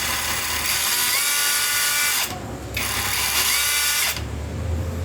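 A cordless power drill's motor whirring loud and close in two long sustained runs with a short drop in between, its steady whine holding at a set speed.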